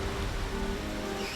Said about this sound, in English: It's threatening to rain all day, and now it's really coming down.